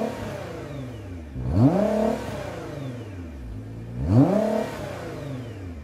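A parked 2013 Nissan GT-R engine revs twice, each blip climbing sharply from idle and falling back, loud and close, with the idle murmuring steadily between the revs.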